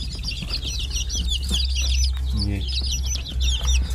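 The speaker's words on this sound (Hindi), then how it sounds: "इसमें कुछ प्ले माउथ रॉक के हैं चिक्स और बाकी ऑस्टर लॉर्ड के हैं" Australorp and Plymouth Rock chicks cluck and cheep steadily as a dense, close chorus of high chirps, with a low hum beneath and a brief spoken word.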